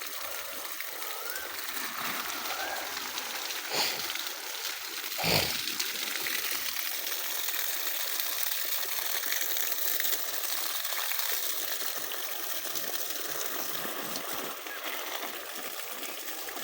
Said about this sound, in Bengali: এটা দুর্দান্ত পানির স্পিড এরকম পানির স্পিড হলে আধা ঘন্টা এক পুরা খামার ভিজেই ফেলানো সম্ভব